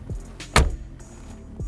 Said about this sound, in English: you gotta slam the door hard to close it properly